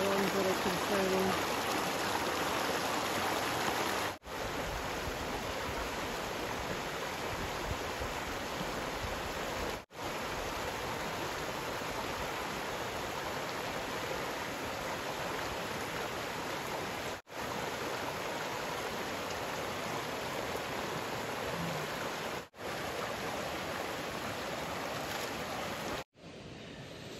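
A mountain stream rushes steadily at a rocky trail crossing on the John Muir Trail, a close, continuous broadband roar of flowing water with no talk over it.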